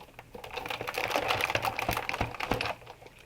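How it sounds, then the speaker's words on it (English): A Sizzix Big Shot die-cutting machine cranked by hand, rolling a cut-and-emboss folder sandwich through its rollers. It gives a steady run of close, dense mechanical clicks and ratcheting ticks lasting a few seconds, with no talking. "roll it through our Big Shot again"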